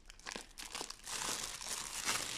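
Plastic bag wrapping from an LOL Surprise ball crinkles close by in a few sharp bursts, then settles into a continuous rustle.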